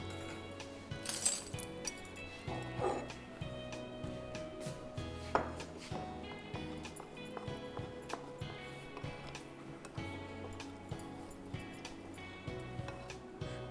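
Green velvet cupcake batter being mixed in a bowl, with repeated clinks and taps of a utensil against the bowl in an irregular rhythm at moderate level, with no talk.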